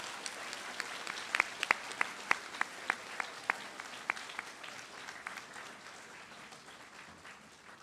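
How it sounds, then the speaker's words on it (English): An audience claps through a steady, even wash of applause at a general session business meeting, with a few sharp, nearer claps standing out early on before the sound thins and fades slightly toward the end. "you guys can clap now."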